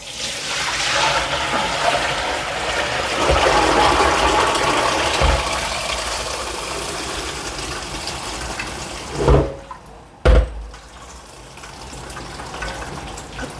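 Tap water runs steadily into a sink while beans are rinsed, a continuous close gush for most of the stretch, interrupted near the end by a couple of brief louder splashes or knocks.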